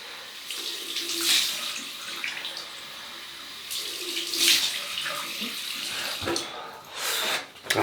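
Running tap water splashes continuously into a sink as alum is rinsed from a freshly shaved face, close and fairly loud, swelling with a few surging splashes and ending in a brief gap.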